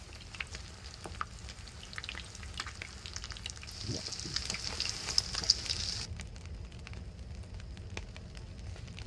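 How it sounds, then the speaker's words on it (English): Food cooking over a campfire in the survival game DayZ, a steady crackling sizzle with scattered pops, fairly close and even throughout, with no talking. "DayZ has pretty boring moments actually, like cooking with a sharpened stick"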